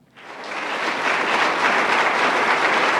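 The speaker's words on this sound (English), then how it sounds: "Please give a round of applause and help me welcome Todd Pownell." Audience applause welcoming jewelry artist Todd Pownell to the stage at a Seattle Metals Guild symposium, a dense, steady wash of many hands clapping that swells quickly in the first half second and holds loud and even to the end.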